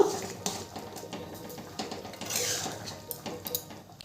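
Chana masala stirred in a cooking pot just after the lid comes off, with scattered clinks and scrapes of a utensil against metal and a brief soft hiss, close and moderately quiet.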